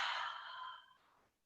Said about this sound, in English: Breathing in, and then breathing out, long out breath.